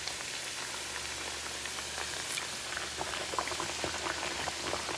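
Smashed plantains fry a second time in oil over medium-high heat, filling the air with a dense, even bubbling and crackling sizzle, close and steady, with no talking.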